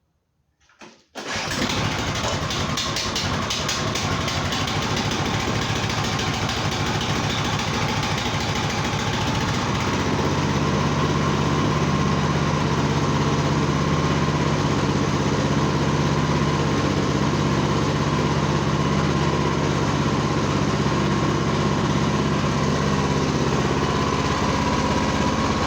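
A Harbor Freight 301cc Predator 8HP engine on a Simplicity snowblower starts abruptly and runs steadily and loudly close by, its even drone shifting to a slightly deeper tone partway through, with no talking.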